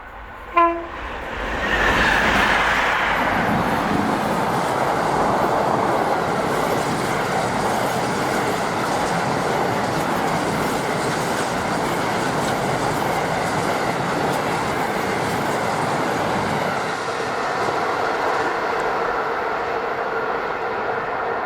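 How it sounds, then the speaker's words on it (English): A DRS Class 66 diesel locomotive, 66426, descends near Aviemore hauling a container train from Inverness to Mossend Yard. A horn blast opens, then a loud sustained rumble and rolling wagon noise continue close by before easing slightly. "DRS Class 66, 66426 approaches Avilochen as she descends with the 1340 Inverness to Moss End Yard container train"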